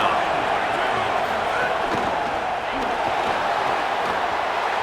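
Home crowd in a college football video game, a loud continuous stadium roar with broadband cheering and talk over it.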